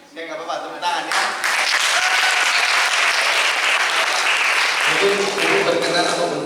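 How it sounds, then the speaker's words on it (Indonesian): Audience applause from students at a school event, rising quickly from a faint start into a full, loud wash of clapping that holds steady, with a brief shift near the end. "Oke nggak apa-apa, tepuk tangan ya."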